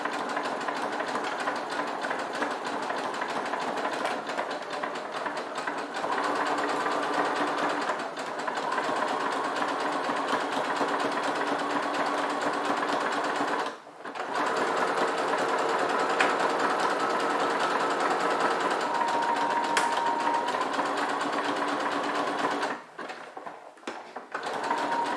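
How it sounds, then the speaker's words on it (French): A sewing machine runs a zigzag stitch through fabric for a card-holder project, a steady fast mechanical whir that continues almost without a break, pausing briefly twice, close and alone with no talking. "Je suis en place pour ma couture au point zigzag, donc c'est parti."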